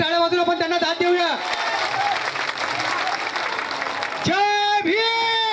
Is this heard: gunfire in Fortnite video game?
no